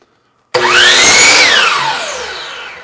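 A power saw cuts a dog-ear fence rail or trim board, starting abruptly with a loud whine whose pitch rises and then drops as the blade bites through the wood before running down, with no talking.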